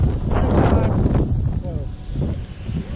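Gusty wind on a forest trail in the Cherokee National Forest buffets the microphone with a loud, low rumbling roar that rises and eases over a few seconds, with a voice briefly heard under it.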